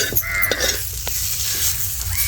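Onion fries in a pan for masala, a steady sizzle with scraping stirring strokes close by, while a crow caws faintly in the background.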